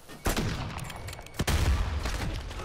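Two sharp, loud SPR sniper rifle gunshots in a video game, roughly a second apart, each followed by a ringing tail.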